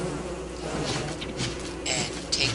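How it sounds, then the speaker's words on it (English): Killer bees from a beehive in the video game Don't Starve buzz in a close, continuous swarming drone that rises briefly, heard alone without talk. "how to take out a killer beehive"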